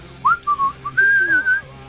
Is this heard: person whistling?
yes